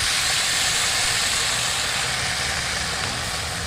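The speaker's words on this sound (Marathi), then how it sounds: "कढईमध्ये अर्ध पळी तेल, लसूण मिरची टाकायची आणि भाजी टाकून घ्यायची" Fenugreek greens go into half a ladle of hot oil with garlic and green chili in a kadhai. A continuous, fairly loud sizzling hiss fills the scene without pause, and no one speaks.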